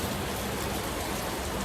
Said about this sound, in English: I hope you can hear me because the rain is really loud